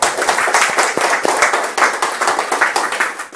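Live audience clapping for a volunteer at a motivational seminar, a dense, close burst of many hands applauding steadily throughout, loud and sustained with no talk over it.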